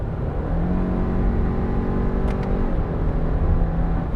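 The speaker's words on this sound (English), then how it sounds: "the CVT does do a good job of pulling off smooth, low-speed acceleration" A 2024 Subaru Impreza with a CVT pulling away smoothly at low speed, its engine a steady, even drone that rises without shift breaks, heard from inside the cabin with constant road rumble underneath.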